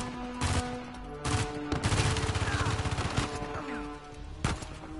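Bursts of gunfire in Uncharted 4 rattle toward the player, with rapid machine-gun volleys and separate sharp shots, loud and close across the clip.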